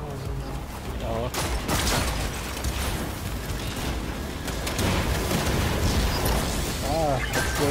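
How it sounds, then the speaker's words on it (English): Explosions and heavy gunfire from the Warframe video game, with loud, dense bursts and booms that continue almost without a break under people talking. "Explosion."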